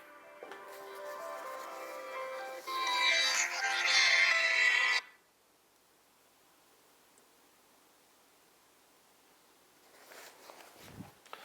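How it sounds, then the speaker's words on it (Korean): A phone rings inside a room during a talk, a bright tonal ringtone with harmonics sounding for about five seconds before cutting off abruptly into near silence, followed by faint shuffling near the end. "지금 전화가 오네요. 여기 방에."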